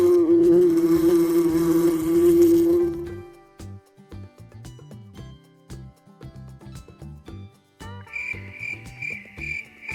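A housefly buzzes loudly and close for about three seconds in a steady droning whine, then gives way to scattered clicks and a thin, high chirping tone near the end.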